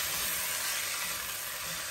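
Vegetables sautéing with turmeric in a pan, a steady broad sizzle and hiss close up, even and continuous with no voices.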